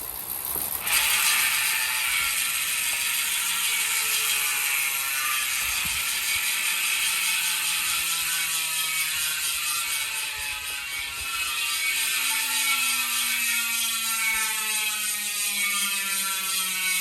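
Rapid, steady ratchet clicking from a spinning Shimano bicycle freehub with a cassette fitted, a dense buzzing whir that carries on evenly and close up with no voices.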